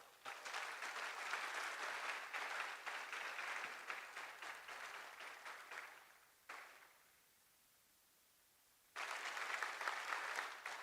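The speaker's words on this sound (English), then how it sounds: "Can we please have a round of applause for them?" An awards ceremony audience gives a sustained round of applause, fading out, falling silent for a couple of seconds, then bursting back into steady clapping.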